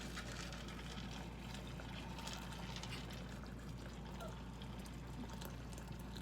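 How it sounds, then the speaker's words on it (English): Water is poured over something at home, a steady, full rush of liquid that continues unbroken and fairly loud, with no talk over it. "Okay, we'll pour it over."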